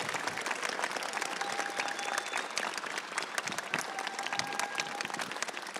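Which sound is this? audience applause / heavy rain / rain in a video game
audience applause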